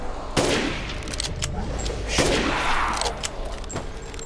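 Gunfire in the video game Resident Evil Village: two loud, sharp shots about two seconds apart, each followed by a booming tail, with fainter clatter between them.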